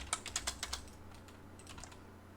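Keys tapped on a computer keyboard while drafting in AutoCAD, a quick run of about eight crisp clicks in the first second, then a few fainter taps, close and quiet with no talking.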